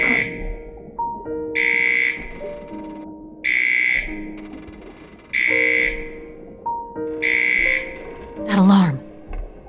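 Repeating electronic alarm in the video game Return to Mysterious Island 2, sounding in five regular pulses against a droning game soundtrack, close and fairly loud, followed by a sweeping whoosh near the end.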